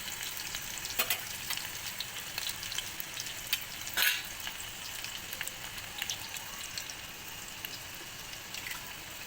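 Sabudana (tapioca pearls) fry in a pan with roasted green chillies, a soft continuous sizzle with occasional sharp stirring clinks, close and fairly quiet, no talking.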